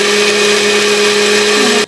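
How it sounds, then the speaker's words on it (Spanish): A kitchen blender whirs at high speed, blending a pineapple and kiwi smoothie with ice cubes and honey in a loud, steady whine up close before cutting off abruptly at the end. "Igual lo vamos a licuar."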